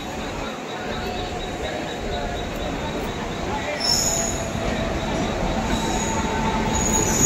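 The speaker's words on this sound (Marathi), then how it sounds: "चला, फायनली ट्रेन आलेली आहे।" An express train on the Mumbai-to-Konkan route pulls into a crowded station, its wheels squealing in high, sustained tones over a loud, steady rail rumble and the murmur of the platform.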